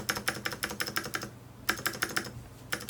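Typing on a lubed Anne Pro mechanical keyboard, with rapid bursts of close, soft key clacks, a brief pause midway, then another quick run of keystrokes.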